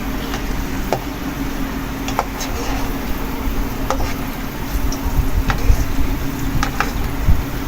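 Potato fries frying in oil over a low-to-medium flame: a steady hiss of bubbling oil with scattered sharp crackles and ticks throughout, fairly close.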